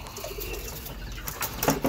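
Birmingham roller pigeons take off outdoors, a brief soft flutter of wingbeats and faint cooing rising toward the end of a short, fairly quiet stretch.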